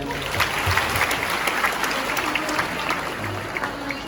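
A university lecture audience in Padang breaks into applause, a dense, even wash of many hands clapping that holds steady and loud for the whole stretch.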